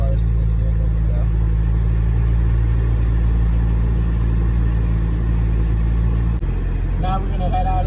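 Inside a vehicle with the air conditioning on its lowest temperature setting, the engine idles under a loud, steady low rumble and blower roar; a voice talks faintly over the drone.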